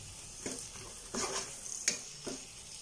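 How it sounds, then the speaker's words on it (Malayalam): Curry leaves hiss in hot oil as they go into a spicy fish head curry. A soft sizzle runs underneath several quick stirring scrapes. "ഇനി ഇതിലേക്ക് ഞാൻ കുറച്ച് കറിവേപ്പില ഇട്ട് കൊടുക്കുകയാണേ."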